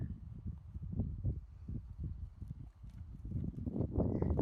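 Horse hooves walking on a circle during a ridden schooling exercise, a steady rhythmic clip-clop of close, moderately loud footfalls with no talking over it.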